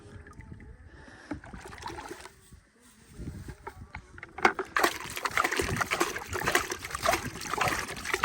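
Water sloshes and trickles over plant cuttings, starting quietly and then swelling into a louder, continuous splashing pour after a brief pause, close by with no talking.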